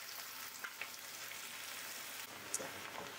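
Onions and garlic frying in a pan for a ridge gourd curry, a steady close hiss of sizzling oil with a few faint crackles and pops, no talking.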